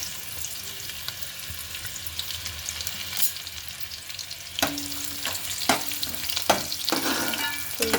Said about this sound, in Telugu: ఇప్పుడు ఉల్లిపాయలు వేస్తున్నాను.